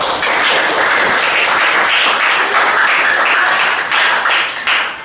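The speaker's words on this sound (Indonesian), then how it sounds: "Ya, tepuk tangan dulu." Classroom applause during a school lesson, a dense, steady burst of many hands clapping loudly and continuously for about five seconds before thinning slightly at the end.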